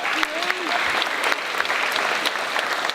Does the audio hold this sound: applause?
yes